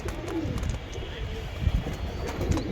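Large male Giribaz racing pigeons coo in soft, throaty rolls close by, against a dense rumbling background of cage and room noise.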